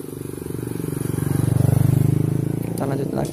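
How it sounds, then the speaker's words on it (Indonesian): A motorcycle passes close by on a road near an old, rusting Dutch-era railway bridge in Kudus, its engine a steady drone that swells and fades, with a voice speaking over it. "Maaf, ada motor lewat."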